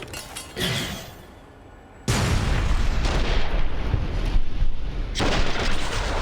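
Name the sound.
grenade explosion in the video game Fallout: New Vegas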